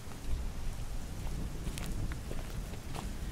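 Steady rain falling outdoors, a dense patter of drops on surfaces with a few sharper nearby splashes and a low rumbling undertone throughout.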